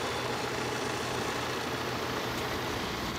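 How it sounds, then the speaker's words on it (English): A large tractor pulling a specialist planter while planting squash gives off a steady, continuous engine drone, even and unbroken across the field with no voices. "That's a specialist planter, specialist large tractor."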